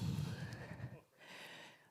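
A horse neigh sound effect plays during a horse race game at a WordCamp Zaragoza web design talk. A loud, rough whinny with a falling pitch fades after about a second, leaving faint room noise.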